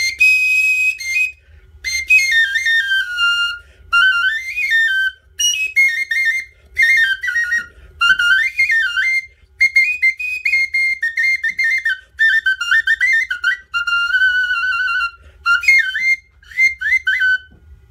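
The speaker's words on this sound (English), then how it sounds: "The ocarina is called huila capitzli, and that's in the Nahuatl language" A high, loud ancient Mexican clay ocarina (huila capitzli) plays alone in shrill whistled phrases, with rising and falling slides, warbles and short breaks between bursts.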